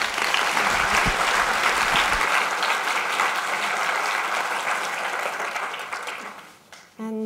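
An audience at a Research Tuesdays public lecture claps steadily to welcome the speaker, a loud sustained wash of applause lasting several seconds before tapering off, with a brief voice at the very end.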